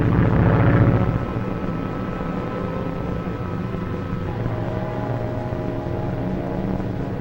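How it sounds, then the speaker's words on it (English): An airplane flying overhead in an old horror film soundtrack: a continuous droning propeller engine hum that starts louder for the first second, then settles into a steady, moderately loud drone with no talk. "The plane is coming back."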